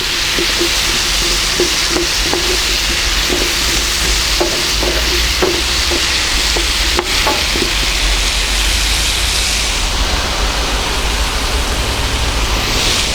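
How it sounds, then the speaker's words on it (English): About a kilo of potato chunks being stirred in infused oil for a stone-baked Italian vegetable casserole, a loud close sizzle with scattered clinks of the spoon against the dish. "just get those potato chunks well coated with that infused oil"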